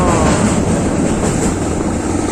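A train passes close by on the line between Chumphon and Donsak in Thailand, a loud, steady rumble and rattle of wagons that fills the whole stretch without letup.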